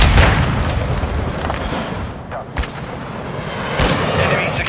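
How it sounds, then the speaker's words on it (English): In Call of Duty: Modern Warfare II on the Lighthouse map, a Semtex grenade blows up with heavy booming blasts amid bursts of gunfire, loud and close, with sharp explosive hits spaced through the battle. "Semtex out!"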